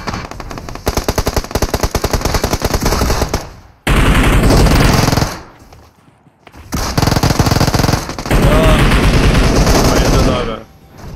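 Machine gun fire in PUBG Mobile, loud sustained rapid bursts in several long strings separated by brief pauses, with players talking over the shooting.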